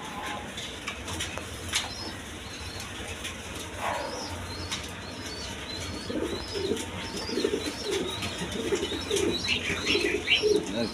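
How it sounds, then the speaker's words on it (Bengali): Domestic pigeons, a pair of milky-khaki birds kept for breeding, coo in soft low repeated phrases amid chirps and a steady background hum, growing busier and louder toward the end. "খুব সুন্দর কবুতর"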